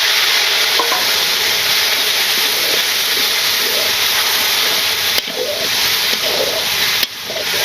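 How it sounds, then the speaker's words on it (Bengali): Spice masala sautés with fried onions in a pan, giving a loud, dense, steady sizzle and hiss heard up close, with a couple of brief stirring scrapes and no talking. "মশলা কষানো হয়েছে, সবজি দিয়ে দেবো।"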